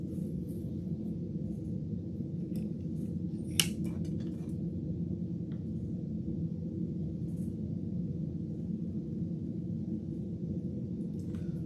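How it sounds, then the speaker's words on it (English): Scissors snip yellow deco mesh for a sunflower wreath, giving a few faint, brief cuts clustered early on over a constant low room hum. "I'm gonna cut all of this yellow."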